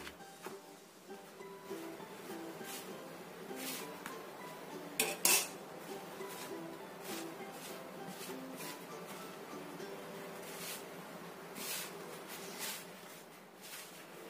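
Ingredients being stirred and mixed by hand in a bowl, a sticky mixture, with repeated soft clinks and scrapes of utensils against the dish, close and fairly quiet, one sharper clatter in the middle.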